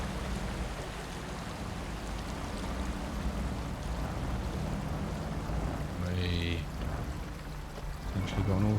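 In the Snowrunner video game, a vehicle drives through water with a constant rushing, splashing wash. A low engine drone runs underneath and rises briefly near the end.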